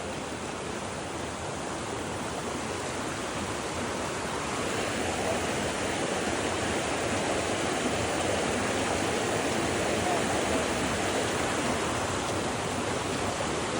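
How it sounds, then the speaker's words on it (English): Rushing creek water at a crossing on a hike to Rocky Top, a constant, broadband roar close by that swells slightly midway, with no voices. "Is just the you know, a creek crossing like this"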